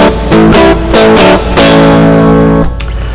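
Electric guitar strums a 1, 4 and 5 chord progression with a slightly distorted tone: three quick, loud chord hits in succession, the last one ringing out before fading.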